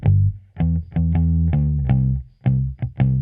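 An electric instrument plays plucked bass-heavy notes through an amplifier, sounding fuller and slightly driven, notes sustaining a bit longer.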